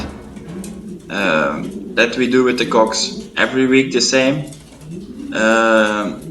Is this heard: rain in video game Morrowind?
no